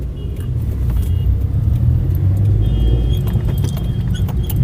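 A car driving over a bumpy, uneven flyover road in Patna, a steady loud road rumble with scattered knocks and rattles as it jolts, close and continuous, no talking.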